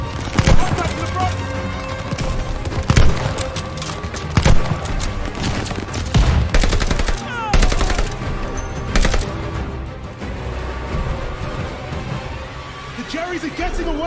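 Gunfire in the Call of Duty Vanguard campaign, with repeated loud, sharp shots and bursts scattered throughout a busy battle mix that also carries voices talking.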